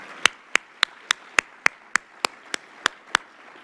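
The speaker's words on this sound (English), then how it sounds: "So a round of applause to that whole team." Clapping at a Long Beach mayor's 100-day speech event, heard as about a dozen sharp, evenly spaced claps in a steady rhythm. Loud and close, they sound more like a single pair of hands than a crowd.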